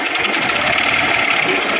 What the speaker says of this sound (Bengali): ইঞ্জিনের আওয়াজ দেখতে পাচ্ছেন।